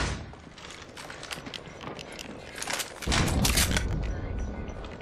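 Submachine gun fire in a video game, a dense crackle of rapid shots that grows louder and heavier about midway through, with a busy mix of other game noise underneath.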